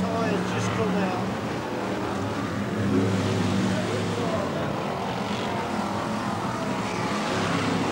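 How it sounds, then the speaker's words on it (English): A pack of BriSCA Formula 1 stock cars races at Kings Lynn in 1994, a loud, steady, dense engine roar with a crowd-like wash, under continuous commentary. "Great to see this gaggle then, a BriSCA Formula 1 stock car."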